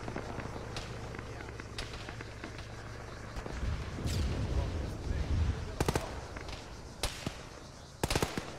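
A helicopter wreck is detonated in the military game Arma during a ShackTac session, a deep rumbling blast followed by sharp cracks of gunfire while players talk over it.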